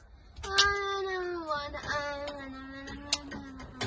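A child imitates a wailing cat with a long, drawn-out, sliding meow-like cry that slowly falls in pitch, close and fairly loud, with a few clicks and knocks in a van interior.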